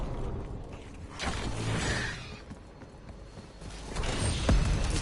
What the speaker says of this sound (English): I better go in and open the door